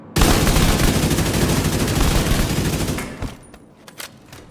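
Sustained automatic gunfire in the video game The Division 2, aimed at an enemy's body: a dense, continuous burst for about three seconds that then breaks into a few scattered shots and fades.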